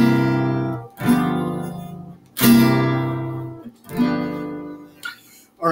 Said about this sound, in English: 4 dominant 7 to 1 resolution,